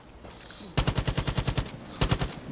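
Rapid automatic gunfire from a player's weapon in Far Cry: New Dawn, a burst of about a dozen evenly spaced loud shots followed by a shorter burst after a brief pause.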